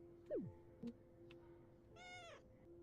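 A cat in a video game meows in a short falling cry, followed by a brief chirp and a longer, higher mewing call, faint and alone over a steady low hum.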